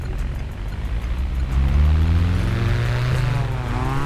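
A synthetic Alpine A110 (2019) engine in the driving game City Car Driving drones and climbs in pitch as it revs, its tone rising steadily and loudly without any talking.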